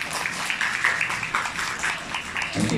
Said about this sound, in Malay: Tepuk tangan sikit.